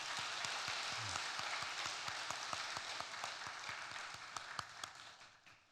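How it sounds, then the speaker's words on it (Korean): A church congregation applauds, a dense, faint wash of many hands clapping steadily. It carries on for several seconds with a few sharp individual claps standing out, then thins and tails off toward the end, with no one speaking. "우리 최단비 집사 간사로 수고하실 텐데 수고 많이 하시라고 격려의 박수를 드리겠습니다."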